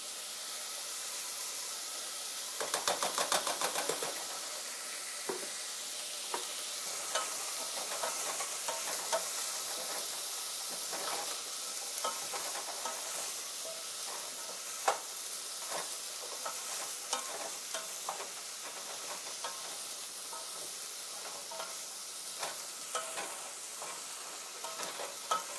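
Ginger sizzling and frying in a pan for a Thai curry veggie soup, a steady close hiss throughout with occasional scraping stirs and small pops, no talking.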